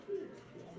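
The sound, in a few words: white grizzle female pigeon cooing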